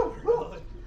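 A Great Pyrenees dog gives a short, fairly close bark or two, mixed with a little whimpering.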